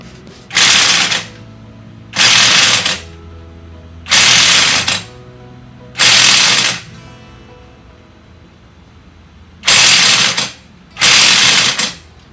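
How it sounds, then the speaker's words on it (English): Six short bursts from an impact wrench hammering on a Jeep WJ pinion nut, each lasting under a second with pauses between, loud and close in a quiet garage. "I'm going to try my impact again, because this is pretty stout."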